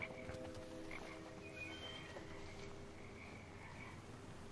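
Frog croaking in a video game shown at a Sony E3 2018 press conference, a steady chorus of croaks and chirps over a dense, continuous bed of jungle ambience.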